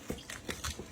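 Turkey bones crack and crunch as a whole turkey is sectioned by hand without a bone saw, several short close snaps in quick succession.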